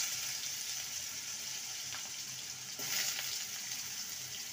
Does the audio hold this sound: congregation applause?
no